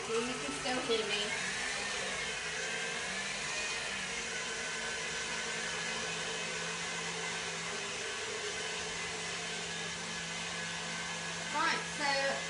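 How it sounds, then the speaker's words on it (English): An electric hand whisk beats egg whites into a fluffy base for brownies, giving a steady, even motor whine that runs close and continuous with little change throughout. "we're whisking the egg whites to make a fluffy base for the brownie."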